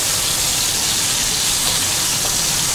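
Green chilies frying in oil for aloo suji squares with cumin, giving a steady, dense sizzling hiss close by with no talk.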